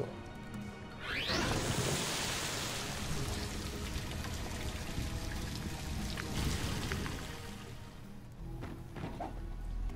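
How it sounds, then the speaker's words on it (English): Water refilling in the Ratchet & Clank video game: a splashy, pouring rush starts about a second in, holds steady for several seconds, then thins out near the end, with no talk. "How do I refill the water?"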